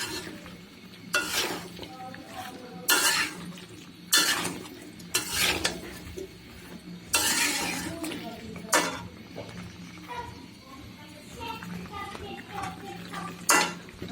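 Beef and bottle gourd curry is stirred in a pot, a spoon scraping and clinking against the metal in repeated bursts over a soft simmering sizzle, close and moderately quiet.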